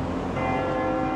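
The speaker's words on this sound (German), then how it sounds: "jetzt hört man auch die Glocken" Church bells ringing in steady continuous peals outdoors near the Meuse at Dinant, sustained and fairly loud across the whole short moment with no talk.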